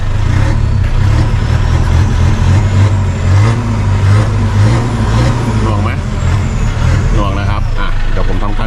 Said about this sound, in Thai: เดี๋ยวผมจะสตาร์ทให้ดูนะครับเดิมๆ ดูคันเร่งนะครับ